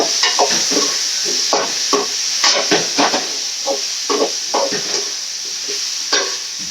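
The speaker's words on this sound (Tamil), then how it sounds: "இப்போ வந்து வெங்காயம் தக்காளி வதங்கிச்சுங்க. இப்போ நம்ம முருங்கைக்காய் போட்டுக்கலாம்." Drumsticks are stirred into sautéed onion and tomato in a frying pan, sizzling steadily while a utensil scrapes and stirs in repeated short strokes, close up with no talking.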